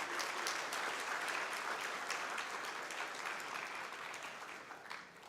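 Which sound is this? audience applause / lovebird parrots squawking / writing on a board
audience applause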